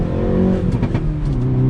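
Manual-transmission car accelerating in traffic, engine droning loud and close with a steady rising hum and faint mechanical whine, no voices.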